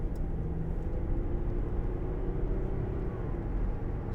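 A 2005 Jaguar XJ 2.7 TDVi diesel saloon accelerating hard on the road, heard from inside the cabin as a steady, loud low rumble of engine and road noise with no talk.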